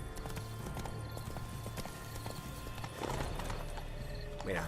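Horse hooves clip-clopping steadily on the ground in The Witcher 3: Blood and Wine, with a whinny near the end, amid ambient game sounds and a brief voice.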